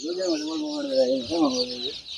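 Native desi chickens on a farm cluck close by in a run of wavering, nasal calls, with a softer second phrase following, over a steady background hiss.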